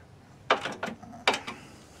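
A nylon-thread locking nut is tightened on a folding tailgate table for a 2021 Ford Bronco. Two short bursts of close ratcheting clicks, each a few rapid ticks, sound against quiet background.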